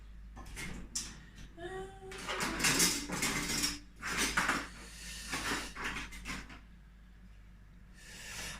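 Metal utensils clink and clatter as a ladle is fetched while making rice pudding with a Thermomix, in a handful of separate close rattling bursts with quiet gaps between, fairly faint overall.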